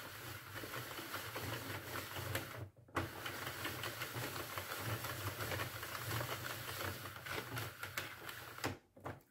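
A Sentro knitting machine being cranked to knit yarn, giving a faint, steady mechanical clatter of needles and gears with two short pauses, and no talking.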